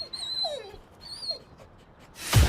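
A dog whimpers in a Milk-Bone dog treat commercial, giving several high, thin whines and yips in short bursts, fairly close, ending in a loud burst of noise.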